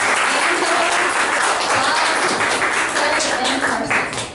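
A Sunday Assembly audience in Las Vegas gives sustained, dense applause, loud and steady throughout with a few voices mixed into the clapping.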